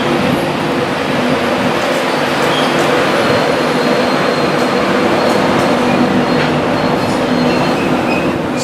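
Interior of a moving passenger train on the line toward York, a loud constant rumble of wheels on rails with faint rhythmic clacking and occasional squeal, no one speaking.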